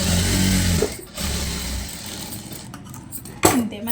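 A computer-work sewing machine stitching a blouse, its steady close whir running loud for about a second before dropping to a softer hum with a few clinks near the end.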